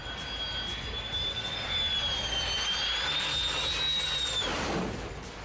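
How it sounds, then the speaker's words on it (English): An F-16 fighter jet comes in to land just a few feet above a crowd, its loud, steady high-pitched whine rising slightly before cutting off near the end, with no talking. "This F-16 was coming in for a landing just a few feet above the crowd,"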